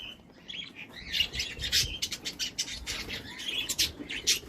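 Canaries and diamond doves share a cage, filling the air with dense overlapping chirps, trills and tweets plus soft low cooing, lively and continuous at close range.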